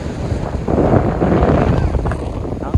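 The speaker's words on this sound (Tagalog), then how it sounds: "Taas ng hangin." Strong gusting wind near Ipo Dam in Norzagaray, Bulacan, buffeting the microphone, a rough, roaring rush that swells and stays loud, with a sharp knock near the end.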